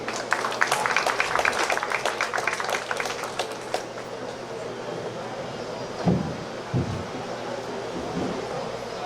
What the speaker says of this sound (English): Please welcome Ozzi with a rousing round of applause.